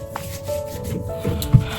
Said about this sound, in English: So after I finish rubbing my normal cream, I like also using Vaseline to moisturize my body more.